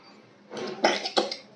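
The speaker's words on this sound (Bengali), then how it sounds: "তার কাশি হয়েছে দেখেছো" A child coughs in a quick run of about three harsh bursts, close and fairly loud, over a quiet background.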